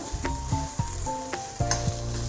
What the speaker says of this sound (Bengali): অপোজিট দিকটা ভাঙার জন্য মানে সরি ভাজার জন্য উল্টে দেবো